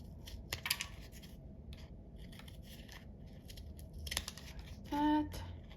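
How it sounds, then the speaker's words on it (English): Scissors snipping away excess paper strip while crafting an umbrella ornament, close and crisp, with several scattered cuts, a quick run of snips near the end and a short rustle of paper. "So let's just cut away the excess."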